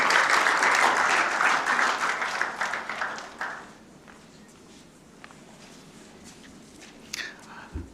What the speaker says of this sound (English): Can we welcome sir with a round of applause?